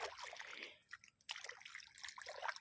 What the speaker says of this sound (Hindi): खाल में पानी चला है